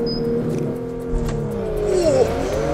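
A 2020 Porsche Macan Turbo launches hard under launch control, its engine note climbing steadily and shifting pitch through the gears as it accelerates, loud and close with no talk.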